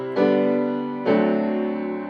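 Piano chords in G, part of a cadence: two sustained chords struck about a second apart, each ringing out clearly and decaying slowly, with no talking.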